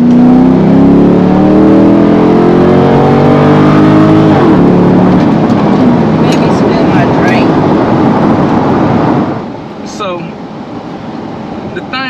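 A deep, throaty Corvette C6 V8 exhaust rumbles loudly and close, revving up and then settling to a rough idle.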